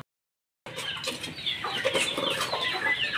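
After a moment of silence, several chickens cluck and chatter nearby, overlapping calls continuing busily to the end.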